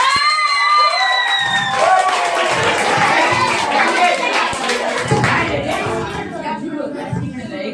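At a Saraswati Puja award ceremony, an audience claps loudly and continuously, with cheers, whoops and children's shouts mixed into the sustained applause.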